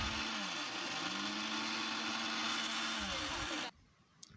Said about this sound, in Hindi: अब मैं पीस रही हूँ पहले मेथी, उसके बाद पीसूँगी सौंफ।